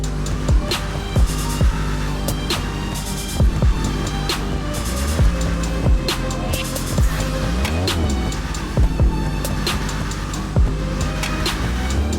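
A Gauntlet Hellfire muscle car in GTA Online spins through donuts, its engine roaring steadily with repeated revving swells and sweeping pitch changes, with no voices.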